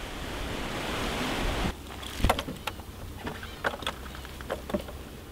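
Rough sea off Ulleungdo island, with heavy waves surging and breaking close by: a dense steady roar for the first seconds, then irregular crashes and splashes against the rocky shore.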